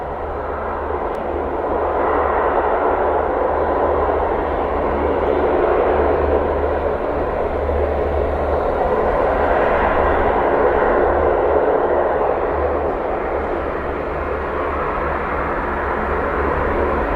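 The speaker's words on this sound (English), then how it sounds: "Is that Osprey heading our way?" A V-22 Osprey tiltrotor aircraft flies near RAF Mildenhall, its engine and rotor noise a continuous broad drone that holds steady and fairly loud for the whole stretch, with no voices.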